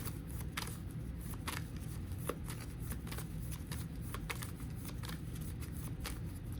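A deck of playing cards is shuffled over and over, giving a steady papery riffling and flicking that runs through the whole stretch at a quiet, close level, with no talking.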